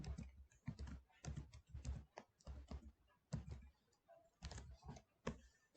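Bursts of quick, close keystrokes on a computer keyboard, clattering in short runs separated by brief pauses, quiet with no voices.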